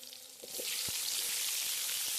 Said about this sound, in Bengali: তারপর কড়াইতে তেল দিয়ে সুন্দর করে আলুগুলো ভেজে নিতে হবে।